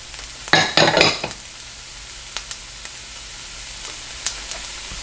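Plant-based sausage sizzles in a frying pan, with a burst of scraping and stirring near the start, then a quieter steady sizzle and a few faint clicks of a utensil against the pan.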